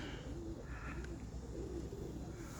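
Roller pigeons coo softly in repeated low, rolling calls over a constant background hum, faint and somewhat distant, with no one speaking.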